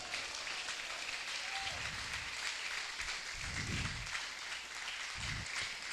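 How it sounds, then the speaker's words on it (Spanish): Church congregation applauding during a Spanish-language sermon, a steady, fairly quiet wash of clapping filling the room, with low rumbles and a brief murmur of voices underneath. "¿Cuántos pueden darle un fuerte aplauso al Señor?"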